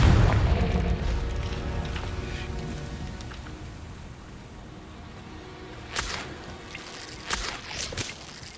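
A Confringo fire spell explodes in the video game Hogwarts Legacy, opening with a deep boom that fades into a rumbling tail, followed by a few sharper pops and bursts later on.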